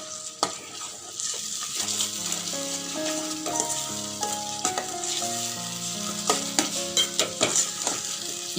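Food frying in a pan with turmeric and coarse salt for an egg pulusu curry, a steady sizzle under scraping stir strokes that grow quicker and more clattery toward the end, close and continuous with no talking.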